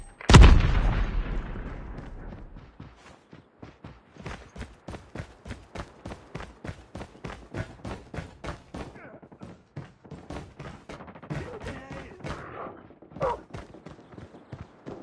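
Rapid bursts of automatic fire from a deployed sentry gun in a military shooter game, opening with a loud blast and then steady evenly spaced shots over about fifteen seconds, with game voice callouts mixed in.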